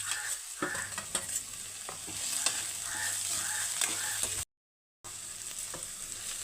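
Tomato and green chili sautéing in a pan for upma, a steady close sizzle with frequent scraping stirs, broken once by a brief gap of silence.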